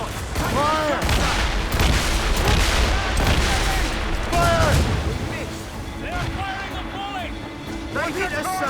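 Ship cannons firing in a naval battle in Assassin's Creed Rogue, rapid booming volleys and crackling gunfire in a dense barrage, with shouting crew voices heard throughout over the noise.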